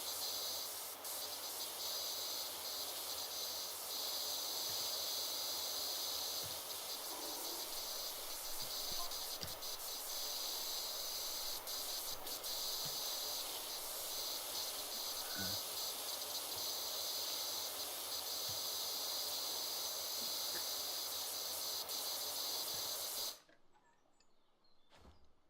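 A pressure washer sprays a roof gutter in PowerWash Simulator 2, a steady loud hiss that runs unbroken for over twenty seconds and then cuts off abruptly.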